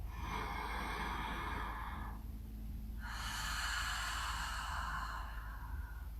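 Deep open-mouth exhales during a yoga breathing exercise in a vinyasa flow class, two long breathy rushes of air separated by a short pause, close and fairly soft with no talking.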